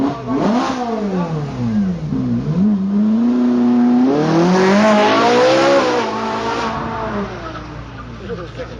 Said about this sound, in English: Ferrari 458.